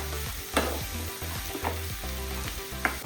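Onion frying in a pan, browning for a dry shrimp masala, with a continuous close sizzle broken by repeated scrapes of a spoon stirring in an uneven rhythm, and no voices.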